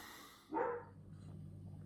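A dog gives one short, close bark beside someone working on a Peugeot 103 Cobra moped, followed by quiet background.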